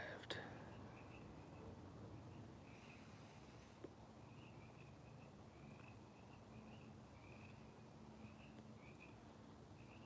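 Frogs call at night in a steady, repeating chorus of short pulsed croaks, fairly faint and distant over low background hum, with soft voices murmuring nearby.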